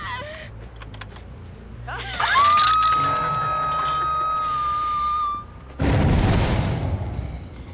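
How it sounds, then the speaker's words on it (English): A flashbang goes off in the video game Dead by Daylight, a loud booming burst followed by a long sustained ringing whine, then a second broad noisy blast near the end. "Get ready for flashbang."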